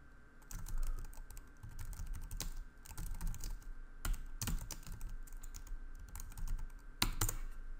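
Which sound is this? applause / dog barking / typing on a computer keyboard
typing on a computer keyboard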